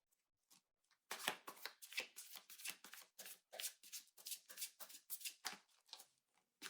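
Tarot cards are riffled and shuffled by hand in quick, uneven bursts of papery flutters and soft slaps, close and fairly quiet, with brief pauses between shuffles.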